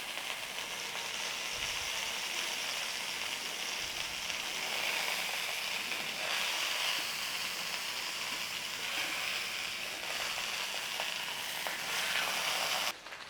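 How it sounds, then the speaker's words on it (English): Steak fat searing in a hot pan gives a steady, loud, broadband sizzle that carries on unbroken for the whole stretch, with no voices over it. "And just sear off that fat on there."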